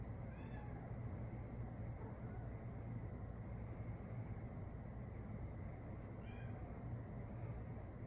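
A cat meows faintly a couple of times in the distance, high and brief, over a steady low rumble of background noise.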